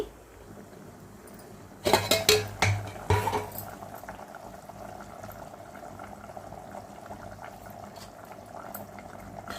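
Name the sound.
eggs added to boiling tomato tamarind gravy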